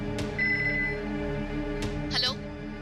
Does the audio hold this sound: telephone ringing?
yes